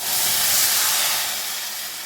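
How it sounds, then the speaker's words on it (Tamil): A loud steamy hiss as water is added to cluster beans in a hot pan, sizzling strongly at first and then slowly easing off. "இப்போ கொத்தவரங்காய் வேகிறதுக்கு தண்ணி சேர்த்துக்கலாம்"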